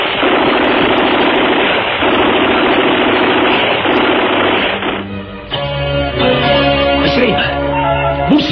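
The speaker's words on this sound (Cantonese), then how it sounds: "我諗啲槍聲已經驚動咗隔離鄰舍噶啦" Rapid automatic gunfire in a staged shootout, loud and continuous for about five seconds, then giving way to a swelling dramatic music score.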